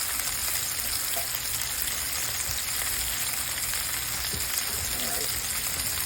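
Onion rings frying in hot oil, freshly dropped in, give off a steady, dense sizzle that fills the whole stretch evenly, close and loud with no talking over it.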